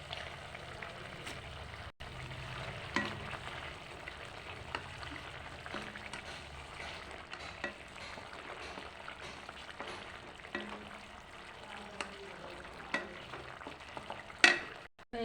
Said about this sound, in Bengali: ভাজা মাছটা দিয়ে দিচ্ছি।